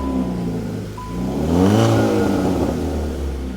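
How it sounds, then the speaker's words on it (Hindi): A 2018 Hyundai Creta SX petrol engine runs loud and close, idling steadily and then swelling into a rev in the middle before settling back, with no talk over it. "सो ये था ये गाड़ी का साउंड"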